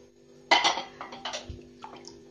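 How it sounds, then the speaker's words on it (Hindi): Sliced potato chips dropped into a tub filled with water for making sun-dried potato chips, giving a few close splashy clatters and sloshes in quick bursts, then quieter drips. "जो टप में मैंने पानी भर कर रखा है इसमें मैं इन चिप्सों को डाल देती हूँ"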